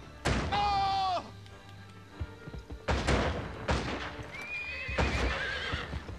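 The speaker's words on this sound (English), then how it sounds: "Quit shooting my horse" A horse in the Western video game Gun gives two loud whinnies under gunfire, with hoof clops, thuds and shots between them and a voice briefly heard.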